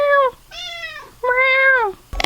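A house cat meows three times, each call drawn out and rising then falling, close and fairly loud, followed by a short bump at the end.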